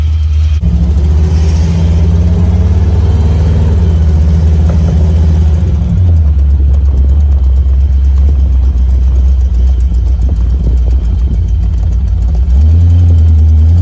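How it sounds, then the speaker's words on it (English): A small-block Chevy 350 V8 in a 1972 Ferrari Daytona replica by McBurnie rumbles loudly and steadily with a deep idle, dipping briefly near six seconds and swelling again toward the end as it revs slightly, heard from inside the car. "we've got a small block Chevy 350 in here"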